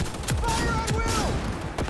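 Rapid gunfire in the video game Cyberpunk 2077, a string of sharp shots over about two seconds, mixed with tonal game effects.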